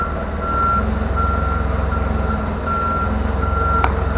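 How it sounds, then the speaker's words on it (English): A diesel forklift sits in reverse with its engine idling low, while its reversing alarm sounds steady, evenly spaced beeps, close and loud. "We have it in reverse, then just let our foot off the brake."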